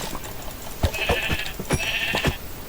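Sheep in a video game give two short, nasal bleats about a second apart, each cut through by sharp clicking hits, over a low steady background.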